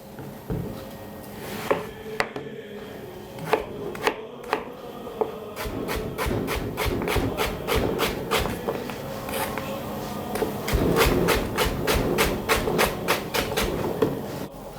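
A knife repeatedly slices potatoes into thin slices on a board, quick rhythmic cuts speeding into a steady series of crisp chops.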